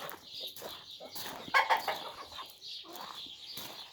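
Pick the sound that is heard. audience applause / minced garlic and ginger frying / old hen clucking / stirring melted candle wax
old hen clucking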